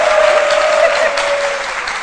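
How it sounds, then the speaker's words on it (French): Studio audience applauding a guest being welcomed on a French-language Ivorian midday TV talk show, a dense steady burst of clapping with a faint tonal whistle or cheer running through it, fairly loud and close throughout. "notre invité témoin, Monsieur Khalil, que je vous demande d'applaudir."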